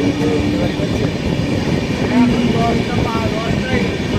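A passenger train runs through the Igatpuri-Kasara ghats in monsoon, heard from an open door: continuous loud rushing and rattling with faint squeals, steady throughout.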